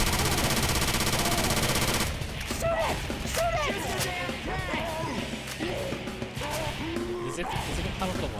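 Rapid automatic gunfire and crashing hits at a Tank in Left 4 Dead 2, starting as a dense continuous burst, then continuing in choppier bursts with yells and voices talking over the action.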